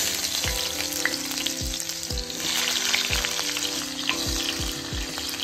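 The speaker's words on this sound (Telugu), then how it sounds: "ఇప్పుడు ఇదే ఆయిల్లో తరిగిన ఉల్లిపాయ వేయించేసుకోవాలి." Chopped onions fry in oil in a village-style kitchen, a steady loud sizzle with repeated stirring scrapes and clinks against the pan, close and without talk.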